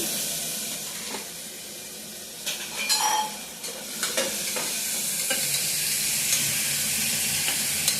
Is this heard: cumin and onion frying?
yes